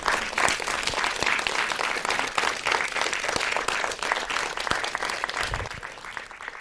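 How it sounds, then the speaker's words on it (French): A live audience applauds the guests at the close of an evening event: dense, steady clapping that stays loud and even for the whole stretch, with no voices over it. "je vous propose de les applaudir, grand merci à nos invités qui nous ont régalés"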